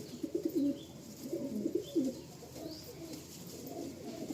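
A pair of Tikki golden-eye pigeons coo softly nearby in a few low, rolling phrases, then go quiet against faint background hiss.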